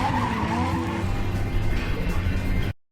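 A Subaru WRX screaming through a movie car chase, engine roaring hard as tires squeal and skid, loud and close for nearly three seconds before cutting off abruptly.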